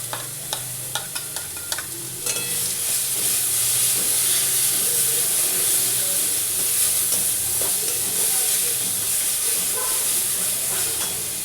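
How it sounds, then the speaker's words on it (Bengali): Garlic sizzles in hot oil in a pan for a catla fish kalia. A few close tapping stirs come first, then a loud, steady frying hiss runs on without a break. "এই তেলেতে আমি আগে রসুনটা দিয়ে দিলাম"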